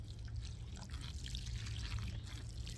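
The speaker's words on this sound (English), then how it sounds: "And I'm gonna water it in" Water pours steadily onto a potted plant just repotted in fertilized potting mix, a steady close trickle and splash soaking in with no voices.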